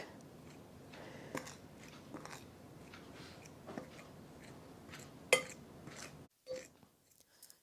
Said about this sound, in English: So with a fork, just keep working it.